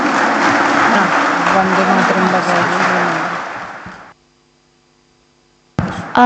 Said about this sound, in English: So just welcome everyone, both the dignitaries, with a huge round of applause.